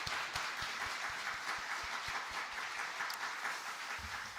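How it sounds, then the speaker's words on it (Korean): A church congregation claps at a New Year service, with sustained, dense applause filling the room at even strength before tapering slightly at the end. "감사와 영광의 박수를 올려드리겠습니다"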